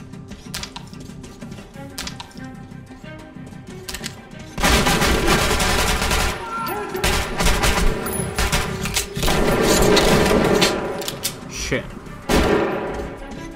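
Automatic gunfire in the shooter Metro Last Light, dense rapid bursts that swell loud and continuous midway with heavier booms, mixed with game sound effects and someone talking over the action.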